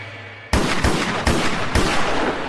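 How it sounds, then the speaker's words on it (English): Four loud gunshots ring out in quick succession after a brief quiet lead-in, each a sharp blast with a lingering echoing tail. "Then all of a sudden, I heard 4 gunshots."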